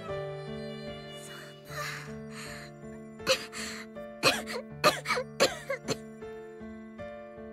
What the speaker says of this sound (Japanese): 苦しそうな咳をする